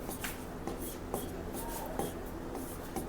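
Pen scratching steadily across paper while a Class 10 maths problem is worked out, with soft irregular strokes and occasional light taps, close and continuous, no talking.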